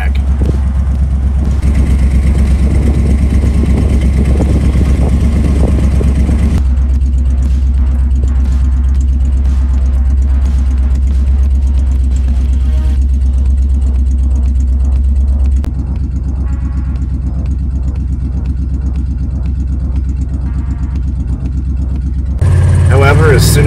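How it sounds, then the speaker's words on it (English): A vehicle engine idles steadily to charge the house batteries, a continuous low rumble running throughout with a slight shift in tone near the end, while voices talk over it. "idle the engine to get some power going to the back"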